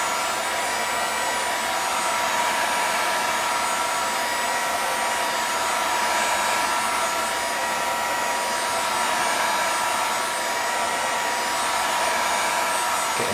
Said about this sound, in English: So we've got our hot air gun. And we're just going to run it up and down.